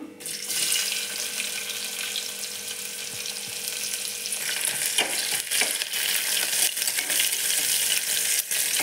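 Onions frying in a pan with mustard seeds and cumin, a bright continuous sizzle with occasional stirring scrapes, close and steady.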